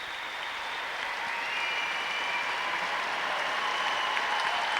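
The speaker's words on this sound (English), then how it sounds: "The Sheffield Steelers are giving a big round of applause." Crowd at a Sheffield Steelers ice hockey game applauding a save by goaltender Mike O'Neill against the London Knights: a steady, fairly distant wash of clapping that swells slightly and holds without a break.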